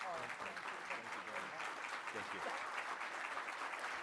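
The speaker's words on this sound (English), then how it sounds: "we should give Maureen a great standing round of applause" A standing audience at a real estate industry event gives a speaker sustained, dense applause that holds at an even level throughout, with a voice briefly speaking over it.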